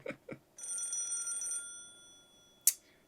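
An electronic telephone ring in the Fire Force season 3 premiere anime episode sounds as a bright, warbling tone for about a second, followed by a sharp hit, after two soft thumps at the start.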